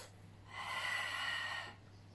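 Breathing during a Pilates exercise: one long, steady breath with a soft breathy hiss that swells, holds for about a second, then fades, heard close and alone over a quiet low hum.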